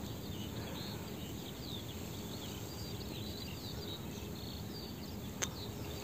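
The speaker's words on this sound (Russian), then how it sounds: "Птички поют, слышите их?" Faint birdsong drifts through a quiet dacha garden on an overcast spring day, with light, scattered chirps over a soft outdoor hiss and one brief sharp tick near the end.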